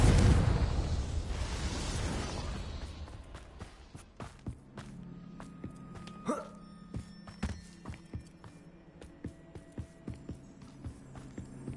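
A Confringo fire spell explodes in the video game Hogwarts Legacy with a loud, booming burst that rumbles and fades over a few seconds. Rhythmic footsteps and small thuds follow.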